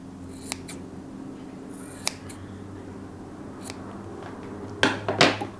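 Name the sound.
scissors trimming excess fabric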